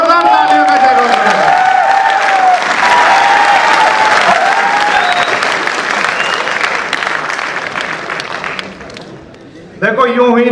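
A crowd at a comedy and poetry show breaks into loud, sustained applause with some cheering, a host's voice running over the top before the clapping fades and talk resumes.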